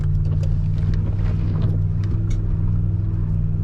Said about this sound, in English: go to second and gently crawl up here